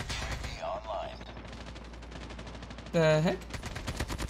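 Gunfire from an AK47 in the mobile video game Call of Duty Mobile on the Scrapyard map, a burst of shots under game effects with a brief spoken exclamation.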